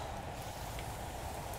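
Acid rain from a Roblox Natural Disaster Survival storm hisses as a steady, even wash of rainfall with no voices over it.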